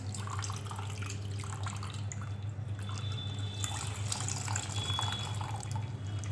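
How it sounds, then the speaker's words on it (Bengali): Water drains and drips steadily from mango kasundi being strained, a soft close trickle with scattered droplets over a low constant hum. "আমি এটা ছেঁকে নেবো এবারে এই যে কতটা জল পড়ে যাচ্ছে"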